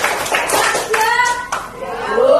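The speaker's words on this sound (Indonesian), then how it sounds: "Berikan dulu tepuk tangan." Classroom of pupils clapping hands after a group presentation, short bursts of close claps mixed with children's voices and chatter.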